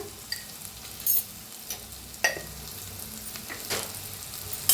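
Red chilli powder and garam masala roast in a pan for an onion dal, making a soft, steady sizzle with a few sharp scrapes and clicks of a spoon, close by and free of speech.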